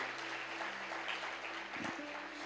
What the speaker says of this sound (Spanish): Si es para Jesús, dale un fuerte aplauso